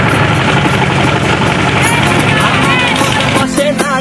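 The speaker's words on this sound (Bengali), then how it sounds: "দেখছেন আমাদের ট্রলার।" A trawler boat's engine drones steadily while crossing a big river toward Char Hare beach, with chatter and voices layered over the constant loud rumble.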